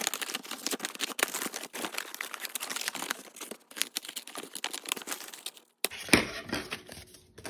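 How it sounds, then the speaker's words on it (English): Scissors cut the bottom off a paper bag for a gingerbread Christmas mini album. Close, steady crinkling and rustling of paper continues throughout, with a sharper snip and crackle near the end. "And then we're going to cut the bottom off."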